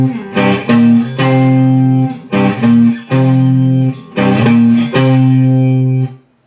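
An octave guitar line from the third verse of a song rings out in loud, punchy repeated phrases, with sustained low notes and sharp plucked attacks in a steady rhythm, played alone.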